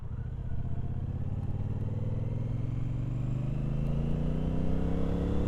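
A 2024 Triumph Speedmaster 1200 engine drones steadily while riding, its low rumble rising gently in pitch as it pulls, loud and continuous with no talk.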